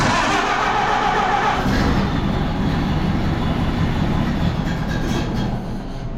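A 1930 Ford Model A engine cranks and catches, a loud rough rumbling roar that builds after a brief starter churn and keeps running unevenly, close by and outdoors.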